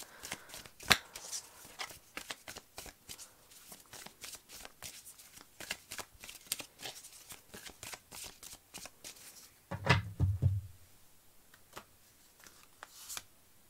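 Tarot cards shuffled and snapped in a quiet room, giving a steady run of soft, close riffling ticks with a fuller flurry of handling near the end and no talk.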